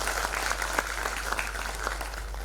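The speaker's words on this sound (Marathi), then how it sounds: "जोरदार टाळ्या होत्या एकदा त्यांच्यासाठी" Steady applause from an audience at the Maharashtra Ratna award ceremony in Pune, a dense and even patter of many hands clapping that lasts the whole stretch with no talking over it.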